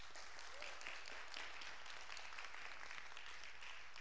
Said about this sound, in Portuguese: Vamos saudá-los com a salva de palmas.